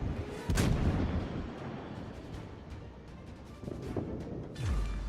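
Naval gunfire from ships in the World of Warships naval battle game, with heavy booming salvos: a loud blast near the start, another around four seconds, and a deep thud at the end over a continuous rumbling battle din.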